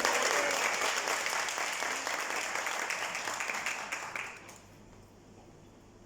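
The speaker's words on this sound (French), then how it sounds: "Nous pouvons encore tous les applaudir." An audience at a L'Oréal Professionnel product launch gives sustained applause that slowly thins out and fades to near silence in the last second or two.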